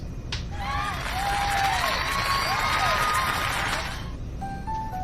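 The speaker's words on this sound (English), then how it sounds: "Once more, please give a big round of applause for our talented participants." Crowd applause in Fire Emblem Three Houses, a steady wash of clapping and light cheering that swells and holds for about four seconds before stopping, with faint game music tones over it.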